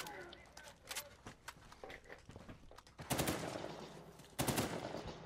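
Gunfire in the video game Uncharted 4 during survival-mode play with friends, with sharp broadband bursts and two loud sustained automatic volleys, mixed with scattered single shots and game noise.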